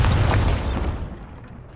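A Bombarda blasting spell detonates in Hogwarts Legacy, a single loud, deep boom with a heavy low rumble that fades over about a second, no voices.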